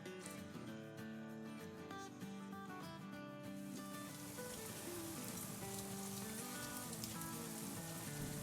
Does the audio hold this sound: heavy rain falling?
yes